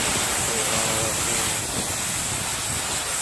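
A hose sprays water over a car for its first rinse, a loud, steady, close hiss of spraying water that stays dense and unbroken throughout, with no clear talking.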